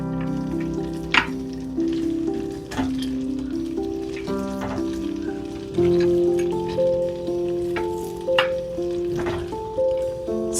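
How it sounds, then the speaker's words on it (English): Ground meat hisses and sizzles in melted butter in a pan, a continuous close frying sound broken by a few sharp utensil knocks and scrapes. "So we're going to put the meat"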